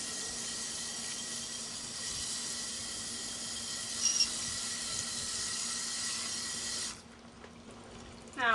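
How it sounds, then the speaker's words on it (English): Steady rushing tap water rinsing dirt off a footwear impression cast, a constant hiss for about seven seconds before the flow drops away and a brief clatter follows. "Now we're rinsing off our cast."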